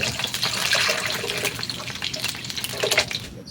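Water from a tap running and filling a cooking pot while making a sardine and cassava sauté, a steady close splashing gush with bright hissing texture that continues throughout, with no talk.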